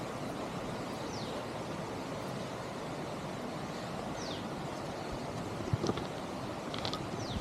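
Nambi waterfalls in Chhattisgarh pour in a steady, broad, even roar of rushing water, continuous and fairly distant, with a few faint bird chirps above.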